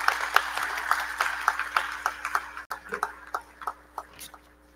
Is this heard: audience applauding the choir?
yes